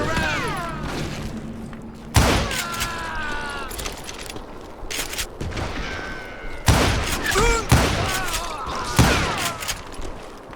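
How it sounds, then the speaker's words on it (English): Gunfire in the Western shooter Call of Juarez: Gunslinger, including an enemy Gatling gun, comes as repeated loud bursts of shots and booms with mechanical clatter between them, over a steady game soundscape. "Kid Curry opened up on me with a goddamn Gatling gun"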